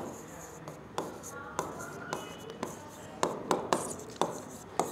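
A pen or marker writes market terms on a board during a stock trading lesson. It makes a steady series of short scratchy strokes and taps, about one or two per second, close and fairly quiet.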